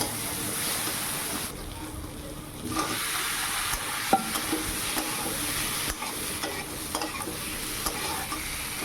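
Tomato and ground spices fry in hot oil for a potato curry, a continuous broad sizzle with occasional stirring scrapes, fairly close and steady throughout with no voice.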